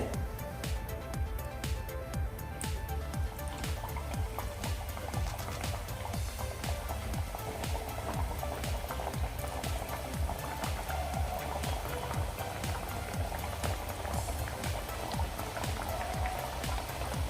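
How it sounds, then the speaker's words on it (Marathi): Homemade Christmas donuts deep-frying in hot oil, a steady dense crackle and bubbling fizz that runs on evenly throughout, close and moderately loud, with no talk over it. "मस्त फ्राय झालेले आहेत आता बाकीचे दोनच मी फ्राय करून घेते"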